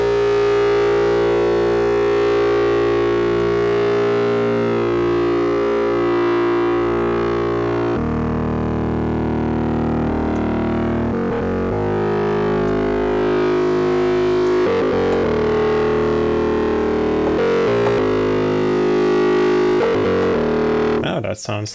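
Distorted heavy synth bass from Arturia Pigments, its wavetable position swept by an LFO, a loud, gritty, siren-like sustained tone that shifts and wobbles continuously for over twenty seconds, with no voice over it.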